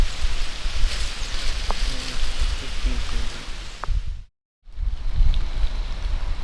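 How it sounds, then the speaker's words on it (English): Light drizzle of rain falling outdoors, a steady soft hiss of drops on surfaces with a few brief clicks, cut by a short silent gap before the patter resumes. "Just a light drizzle."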